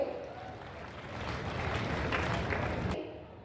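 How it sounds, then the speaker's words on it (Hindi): Dense crowd applause fills a large hall at a government ceremony where teachers receive appointment letters, swelling into a steady wash for about three seconds before cutting off abruptly. "खुशबू कुमारी जोरदार ताली होनी चाहिए।"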